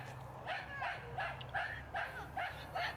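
Dogs on a disc golf course at a winter tournament bark in a quick run of about seven yips, evenly spaced, fairly faint and distant over a low background hum.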